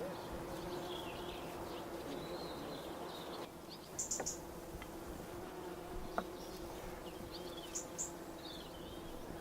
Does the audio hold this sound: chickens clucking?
no